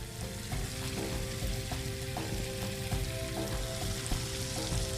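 Spices with garam masala toasting in a pan for a jackfruit bhaji, a steady close sizzle with light rhythmic stirring scrapes, no one speaking.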